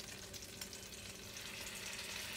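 Fritter batter sizzles and crackles steadily in very hot frying oil, a dense continuous hiss that grows slightly louder toward the end, heard alone without voices.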